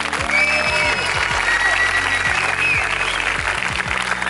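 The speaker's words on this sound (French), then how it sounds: "on peut les applaudir je pense" A film festival audience at the first Cinewa festival applauds loudly and continuously, a dense unbroken wash of clapping with some low background rumble.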